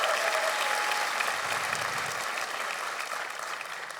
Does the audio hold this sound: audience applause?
yes